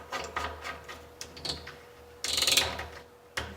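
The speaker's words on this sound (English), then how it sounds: "screw the nut onto the other side" A nut threaded by hand onto a 3D printed drawer knob makes quiet ratcheting clicks and light plastic scraping, with a brief louder rattle partway through and a final click, no voices.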